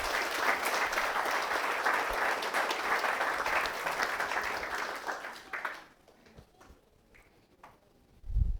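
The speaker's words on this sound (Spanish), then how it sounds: "Vamos a darle un fuerte aplauso al Señor" A church congregation gives a strong, sustained round of applause that stays loud for several seconds, then fades out to near quiet, with a brief low thump at the end.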